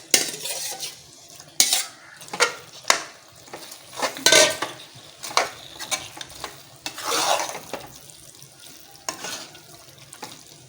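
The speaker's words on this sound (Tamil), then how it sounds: "சிக்கன் போட்டு வதக்க வேண்டியதான்" Chicken stirred and sautéed in a pan with softened onion and tomato for dum chicken biryani, with repeated scraping spoon strokes against the metal pot over a soft background sizzle, heard alone and close.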